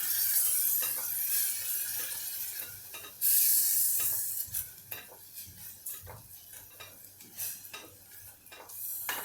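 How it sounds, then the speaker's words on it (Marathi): Soaked rice being stirred and sautéed in ghee in a pot, irregular spoon scrapes and metallic clinks over a soft sizzle, with a brief louder hiss burst, close by and no talking. "हा तांदूळ आपण परततोय"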